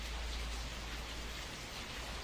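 Rain falling in Rio de Janeiro, a steady dense hiss of drops on surfaces with a deep low rumble underneath, constant and fairly loud, with no talking.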